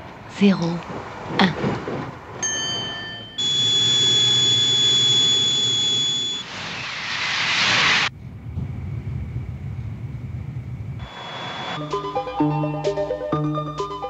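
The TGV 001, a gas turbine prototype high-speed train, gives a loud, sustained turbine whine and roar with steady high tones. The sound swells and cuts off in long blocks, and a voice speaks over parts of it.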